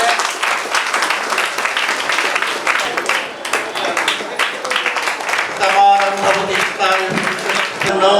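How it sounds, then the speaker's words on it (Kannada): Audience applause at a felicitation ceremony for a poet, sustained clapping from a crowd filling the room, with voices talking and calling out over it throughout. "ಚಪ್ಪಾಳೆ ತಟ್ಟಿ ಎಲ್ಲರೂ"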